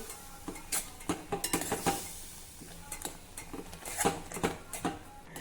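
A spoon stirs edible gum kheer with jaggery as it cooks in a pot, giving repeated close scraping and clinking strokes against the metal in an uneven rhythm, with a faint sizzle beneath.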